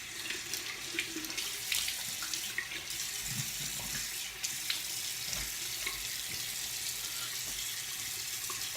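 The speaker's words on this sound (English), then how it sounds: "let's rinse this off" Tap water runs steadily over a straight razor being rinsed, a soft continuous splashing hiss from a faucet with small clinks, close and alone.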